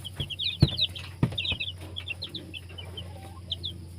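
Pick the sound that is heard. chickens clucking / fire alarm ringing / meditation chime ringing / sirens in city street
chickens clucking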